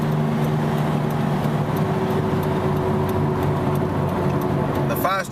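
A worn wheel bearing hums in a steady low whir beneath road and cabin noise while the vehicle drives, and someone talks over it.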